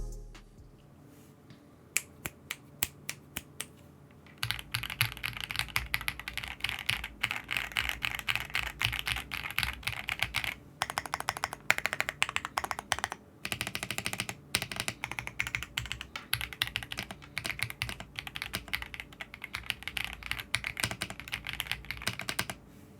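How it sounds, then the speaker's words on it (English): Typing on a Royal Kludge RK S85 gasket-mounted keyboard with foam and lubed linear switches: a few isolated keystrokes, then dense, rapid, even clacking sustained for about twenty seconds, close and clear with brief pauses. "the sound you get from the gasket mounting to the foams to the lubed linear switches makes this keyboard sound and feel really good"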